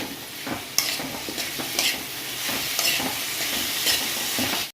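Curry leaves, mint and coriander sizzle and crackle in hot oil while being stirred, with periodic scraping strokes over a constant frying hiss.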